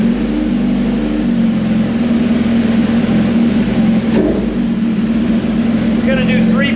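Suzuki GSXR 1000 sport bike with a swapped exhaust running on a dyno, a loud sustained engine drone holding steady at high revs, close and dominant, with a sharp spike of rising pitch near the end.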